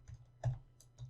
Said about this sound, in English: you have to type pip install XLX Writer